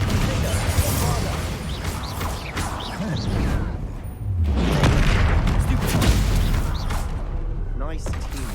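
Confringo and Bombarda spell blasts in Hogwarts Legacy burst out as loud booming impacts with crackling, whooshing magic effects, repeating amid combat clatter while voices shout.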